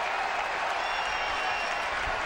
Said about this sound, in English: a sarcastic round of applause coming out of the grandstand here